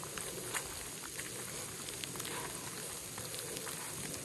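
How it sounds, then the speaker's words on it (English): Sleet pellets falling outdoors on the Appalachian Trail during a day of rain, sleet and snow, a dense, faint, continuous patter with scattered sharper ticks, no voices. "It's actually sleeting."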